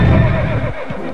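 A horse neighs loudly and close, a single whinny that rises then breaks into a shaky descending call, with a faint clop of hooves near the end.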